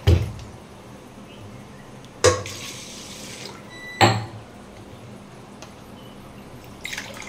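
Water poured from a glass into a pot of sun-dried (atap) rice, about three glasses for one and a half of rice, landing in a few short splashy bursts separated by quiet kitchen stretches.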